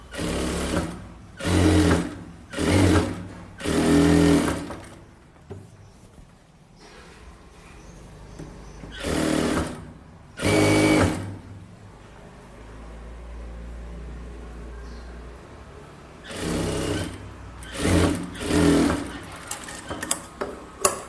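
A tailor's sewing machine straight-stitches blouse pieces together: four quick whirring bursts, a quieter stretch, two more bursts, then a final cluster of short runs, close and distinct with no talk.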